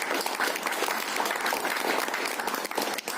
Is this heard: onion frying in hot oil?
no